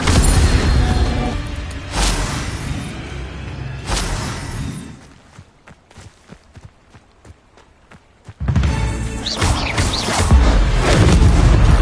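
Incendio fire spells are cast repeatedly in Hogwarts Legacy. Loud roaring, booming bursts come in waves with a sharp swoosh at each casting, drop to a quieter stretch of light footsteps in the middle, then come back at full force.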